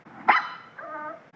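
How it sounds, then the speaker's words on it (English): A puppy gives one sharp, close bark followed by a softer, drawn-out yelping whine, alone with no talk. "Do you know how they bark?"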